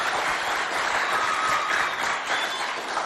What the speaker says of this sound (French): si vous êtes là, applaudissez-vous bien fort